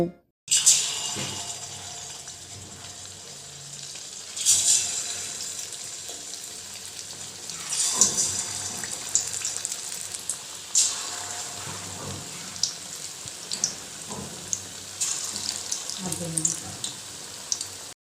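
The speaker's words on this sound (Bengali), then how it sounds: "চিকেন পকোড়া ভাজার জন্য কড়াইতে দিলাম রিফাইন্ড অয়েল তেল মিডিয়াম গরম হয়ে গেলে চিকেনের পিসগুলো তেলের মধ্যেই দিয়ে দেব" Chicken pakora pieces sizzling in medium-hot refined oil in a kadai, a steady hiss and crackle throughout with occasional louder bursts as pieces go in or are moved.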